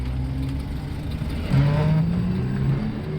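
A passing car pulls up close alongside a small pedal-and-solar ELF car-bike in traffic, its engine swelling louder midway through a steady road rumble, with no talk.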